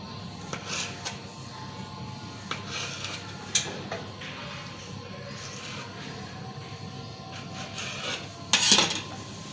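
A knife cuts through rolled chicken kachori dough on a kitchen surface, giving soft scraping and occasional sharp taps against the board, with a brief louder clatter near the end.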